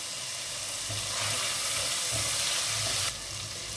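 Chicken pieces frying in a pan for chicken fried rice, giving a steady close sizzle with a soft rhythmic pulse, alone with no talking.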